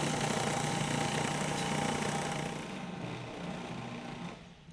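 A food processor pulsing key lime pie crust while melted butter is added, a loud continuous motor whir that eases down slightly near the end.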